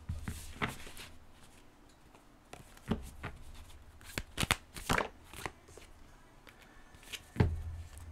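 Oracle cards from a Luminologie deck being shuffled and drawn by hand: soft riffling and sliding, with sharper slaps and snaps as cards are cut and set down, close and fairly quiet.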